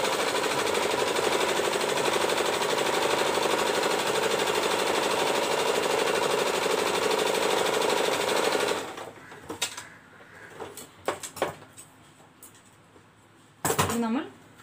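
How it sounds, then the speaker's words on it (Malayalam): A sewing machine stitches the lining of a lehenga being converted into a wedding gown, running loud and steady for several seconds before stopping, followed by quieter handling clatter and a brief sharp knock. "ഇനി ഈ സൈഡിലും ഇങ്ങനെ ഒരു തയ്യൽ തയ്ക്കണം"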